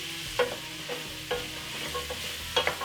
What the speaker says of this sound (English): I'm going to add all our vegetables and then start sweating them.